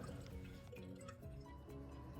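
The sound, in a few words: toilet bowl filling with water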